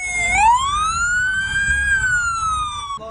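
A police or gendarmerie vehicle siren wails loudly and close by in a wedding convoy in Karamürsel, Kocaeli, a single long rising then slowly falling tone over low engine rumble.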